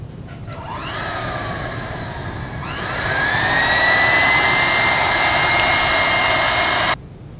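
A heat gun blows with a loud, steady whine and roar while heat-setting green color-shift paint on a crappie-pattern fishing lure, rising in pitch partway through and then cutting off abruptly near the end.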